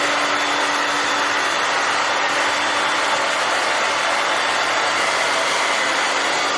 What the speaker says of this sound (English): I'll get my scalp just like going like this with the blow dryer